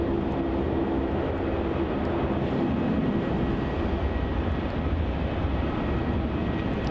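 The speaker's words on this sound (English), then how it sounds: "And departing off runway 27, we have Virgin Australia flight VA" Virgin Australia airliner departing runway 27 at Melbourne Airport, a steady, loud, broadband engine roar that holds constant throughout with no talk.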